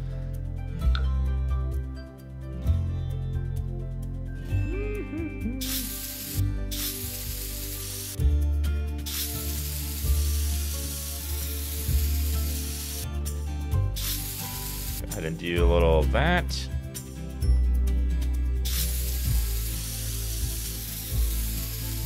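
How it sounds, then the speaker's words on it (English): Spray painting concrete in The Sims 4 PC game produces soft, sustained hissing bursts with game music and effects throughout; someone talks briefly. "I love how I'm spray painting concrete."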